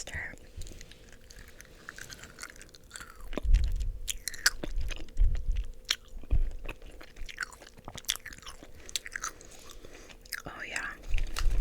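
Close, wet chewing and biting of sour strings candy in whispered ASMR eating, with soft bursts of mastication spread through the clip and quiet whispering between bites.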